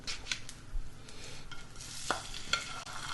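Food sizzles and crackles in a hot pan with scattered sharp pops and scraping, steady and fairly close, with no talking.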